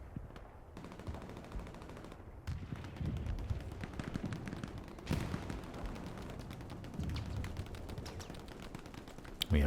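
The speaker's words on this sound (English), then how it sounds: "We have Dumaola on here on the machine gun" Machine gun fire in the Hell Let Loose war game, rapid automatic bursts and scattered shots over a rumbling battlefield, fairly distant and continuous, with no talk.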